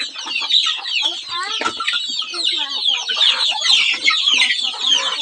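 A flock of chickens clucks and squawks busily while being fed on a farm, close and continuous, with a voice briefly heard among them.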